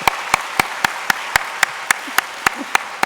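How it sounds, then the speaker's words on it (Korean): A Sunday church congregation applauds a soloist with a full, steady wash of clapping. Sharp, evenly timed claps stand out on a regular beat throughout. "솔리스트에게 한 번 더 박수를."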